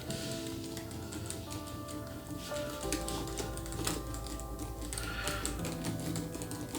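Keys on a Microsoft Surface Laptop Studio 2 keyboard being typed on, a steady run of close, clicky keystrokes over a low background hum, with no talking.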